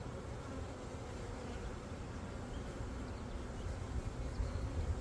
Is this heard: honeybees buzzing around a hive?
yes